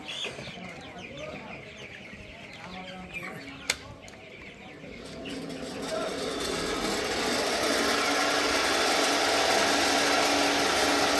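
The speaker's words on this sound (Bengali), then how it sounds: "এই ফ্যানটা এই ফ্যানটা ছাড়লে কি হয় এটা ঘুরে ঘুরে বাতাসে যখন দেয় ভিতরের গরম ভাবটা বের করে দেয়" A stand fan starts up inside a raised-slat broiler chicken farm, its whooshing hum building after a sharp click and growing steady and loud, while hens cluck faintly in the background.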